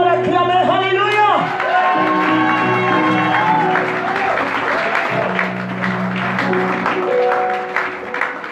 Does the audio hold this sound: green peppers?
no